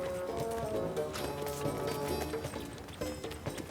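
A donkey carrying a shepherd's baggage walks in the desert, its hooves clopping steadily on hard ground in a continuous, fairly loud rhythm.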